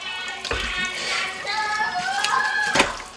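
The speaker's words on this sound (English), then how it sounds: "Take the gizzards, rinse all that off." Steady running tap water splashing as chicken gizzards are rinsed in a kitchen sink, with a couple of louder splashes and shifting gurgle as the pieces are moved under the stream.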